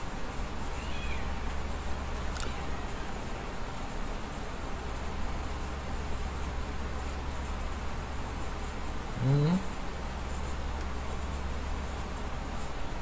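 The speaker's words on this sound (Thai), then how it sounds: "เมื่อกี้เหมือนได้ยินเสียงแมวนะ" A single cat meow sounds once, faint and brief, rising out of a steady low hum and hiss in an otherwise quiet room.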